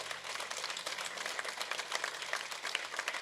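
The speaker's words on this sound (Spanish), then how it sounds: "deme un aplauso al Señor por esta palabra" Church congregation applauding together, a dense steady wash of hand clapping filling the space throughout, with no voices rising above it.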